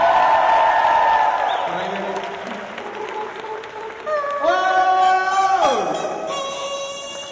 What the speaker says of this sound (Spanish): denle un fuerte aplauso para Randy